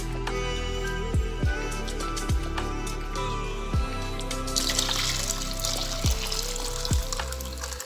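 Boiled tobacco water poured into a plastic container partly filled with water, a steady close trickle and splash with occasional clunks and a brighter rush near the end, no talk.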